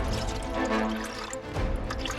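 Water poured from a height at a lochside car-camping spot, splashing and dribbling as it spills, a close, uneven liquid patter with brief gurgles.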